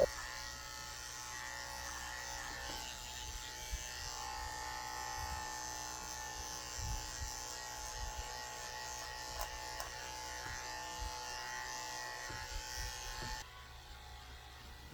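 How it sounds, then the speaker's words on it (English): Electric clippers buzz steadily on a Havanese mix dog, trimming the fur near its rear: a close, even whine running for many seconds, with small shifts in pitch as the blades move through the coat. "I'm also shaving her out a potty path so it stays clean back here when she goes to the bathroom."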